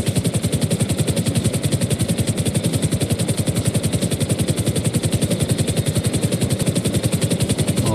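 A helicopter flies in GTA Online, its rotor beating in a loud, fast, steady chop with a constant engine drone and no voices.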